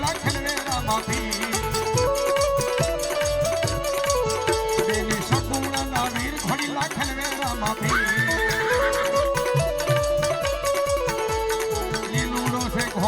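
A horse whinnies with clip-clopping hooves, embedded in a continuous devotional folk song to Ramapir with steady music and singing throughout.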